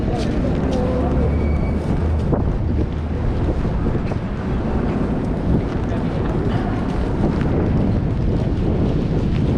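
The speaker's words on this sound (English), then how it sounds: "not only is it windy and cold" Strong, cold wind in New York City buffets the microphone in a constant low roar, gusting heavily throughout with a rushing, blustery texture.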